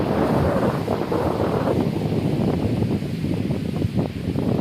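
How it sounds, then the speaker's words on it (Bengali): Strong storm-like wind blows across an open rice field during planting and buffets the microphone in a continuous loud roar, with no break. "এত বাতাস, ঝড়ের মতো বাতাস।"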